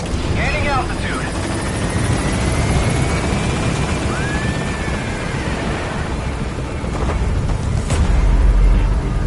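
Support helicopter B-Quad in Metal Gear Solid V gaining altitude, a sustained rotor roar with a rising whine, under radio chatter and game sounds, swelling louder near the end.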